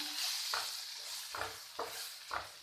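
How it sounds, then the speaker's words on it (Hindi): Vegetables are mixed with a spoonful of pizza sauce in a pan, giving a soft sizzle under four distinct scraping stirs spaced unevenly, quiet and close, with no voices. "1 चम्मच पिज़्ज़ा सॉस डालूँगी अभी इसमें और इसे मिक्स कर लेते हैं।"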